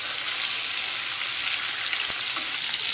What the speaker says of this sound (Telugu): ఆయిల్లో మూత పెట్టి ఒక 2 మినిట్స్ ఇలాగ ఫ్రై చేసుకుంటాం.